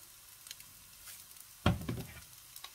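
Rice hitting a very hot wok with a sudden loud sizzle that spikes and then settles into a softer crackling fry, with faint clinks before it.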